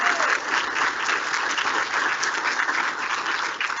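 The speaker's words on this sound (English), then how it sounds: "can I get the most welcoming round of applause for Mike Hamlet, who is" A conference audience claps steadily through the whole stretch, a dense, even round of applause from a roomful of people with no talking over it.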